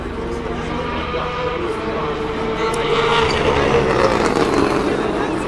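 Le Mans race cars pass by during the night of the 24-hour race, a continuous roar of engines that swells toward the end, heard under a person talking.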